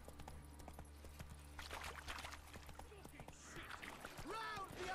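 Hoofbeats of a horse galloping in The Witcher 3 clip-clop through a swampy bog area alongside game ambience, with someone talking over the steady hoof rhythm.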